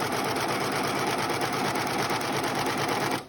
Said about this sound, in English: Let me serge. Make sure it's serging.